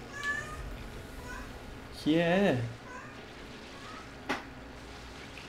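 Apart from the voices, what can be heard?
cat meowing, asking for food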